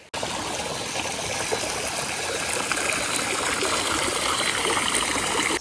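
Water flows steadily into natural hot spring pools in El Salvador, a dense, continuous rushing and trickling that stays close and even from start to finish.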